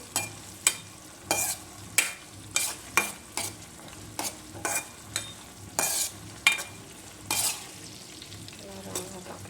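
Curry base sizzling in a pan while a spoon stirs it in repeated scraping strokes, about a dozen sharp stirs over a steady close fry, no talking.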